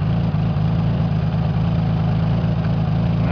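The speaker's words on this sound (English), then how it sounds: "Now the engine goes slower." Honda CBX 1000 motorcycle engine idling at a slower speed, a steady low rumble with even firing pulses that stays close and loud throughout, with no talking.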